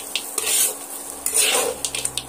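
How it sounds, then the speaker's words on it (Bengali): Semolina with nuts and raisins is stirred in a pan over low to medium heat, a spatula scraping and rustling through the dry grains in short close strokes with light metallic clinks and a faint sizzle. "সমস্ত কিছু দিয়ে আবারও আমি সুজিটা এইভাবে নাড়তে থাকবো।"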